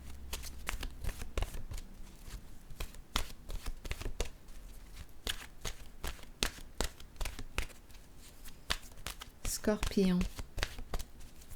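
Oracle cards being shuffled continuously with rapid, crisp rustles and flicks that run throughout, close by, while someone speaks French softly over the shuffling.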